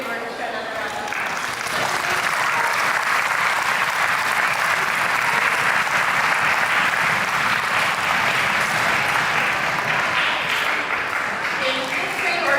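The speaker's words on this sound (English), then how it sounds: "Can we have fourth grade orchestra another round of applause?" An audience at a spring school concert gives a fourth grade orchestra a steady, full round of applause, dense clapping holding evenly for about twelve seconds.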